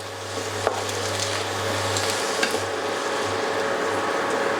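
Egg tomato bhurji with salt being stirred in a pan, with a steady soft scraping and faint sizzle running continuously, close by, and a low hum underneath.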